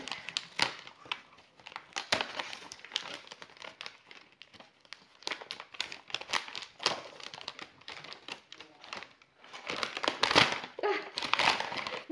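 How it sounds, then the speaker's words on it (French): Kraft paper packaging crinkles and tears as a parcel holding a Monstera Thai Constellation plant is unwrapped, giving irregular bursts of close crumpling and ripping over about twelve seconds. "Il y a encore un paquet, encore un papier."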